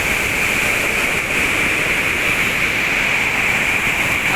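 Fast-flowing river below a swaying footbridge near Kedarnath, rushing loudly and steadily as a continuous roar of churning water throughout, with no voices.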